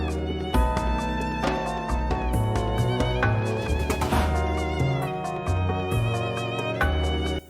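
Music from the video game Sonic Unleashed plays as a full, dense arrangement with a moving bassline, sustained melodic layers and percussion, steady and loud throughout with no talking.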